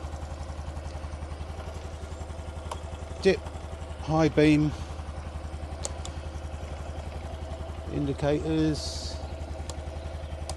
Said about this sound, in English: So you have to run the engine to make the lights work.